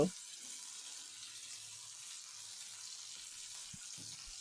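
Pieces of fish frying in oil in a frying pan for a rui fish curry, a soft steady sizzle close by, with a few faint knocks near the end.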